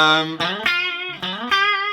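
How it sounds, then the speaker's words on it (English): Clean electric guitar with no distortion playing a smooth legato line in D Dorian, sustained notes sliding and flowing into each other continuously, close and fairly loud, with no talking. "we got sounds a bit weak without distortion."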